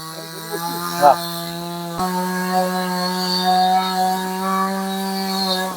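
Chainsaw cutting areca palm trunks outdoors, a loud steady engine drone with a strong harmonic whine that holds throughout, briefly surging and dipping once before settling into a constant cutting note.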